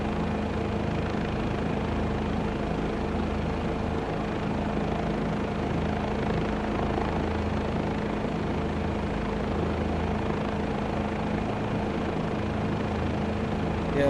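Simulated helicopter hovering and taxiing low around an airport in Microsoft Flight Simulator 2024, a steady, loud rotor and turbine drone that holds constant throughout with no speech.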